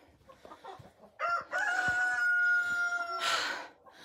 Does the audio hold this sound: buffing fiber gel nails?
no